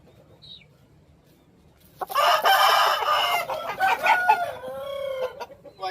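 A fighting rooster of a prized bloodline, kept for Sankranti cockfights, clucks and crows close by, a loud burst of calls that starts after a couple of seconds of quiet and runs on without pause.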